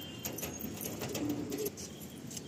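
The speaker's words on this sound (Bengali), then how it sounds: "এই আমার লাস্ট সব থেকে পুরনো গিরিবাজ পায়রা" Giribaz pigeons coo softly and low, a faint murmuring call set against a steady background hiss.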